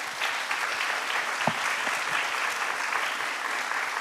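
A conference audience at a container shipping market session gives sustained applause, a thick, constant stream of clapping from many hands at steady loudness.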